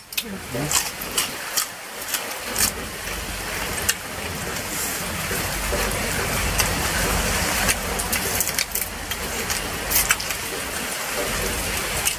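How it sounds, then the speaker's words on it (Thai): Rain falls steadily outdoors, a constant hiss of drops on surfaces running throughout at moderate loudness, with a faint engine rumble beneath and brief louder patters scattered through. "บรรยากาศเย็นครับพี่น้อง เย็นดีครับมันฝนตก"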